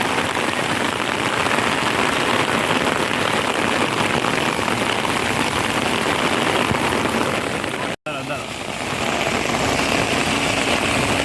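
Heavy rain pouring outside Dakshineswar Kali Temple on a crowded Saturday, a dense, steady hiss of drops on surfaces that stays loud and constant throughout, briefly cut at one point.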